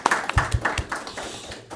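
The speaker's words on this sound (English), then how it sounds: "Give a round of applause, you know, for the rest of the staff" A small crowd at a city planning board meeting gives a short burst of scattered applause for the city staff, the individual claps close and uneven before trailing off.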